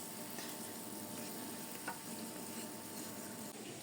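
Pampushky doughnuts fry in vegetable oil in a gentle, steady sizzle, a faint close hiss of bubbling oil that runs without pause.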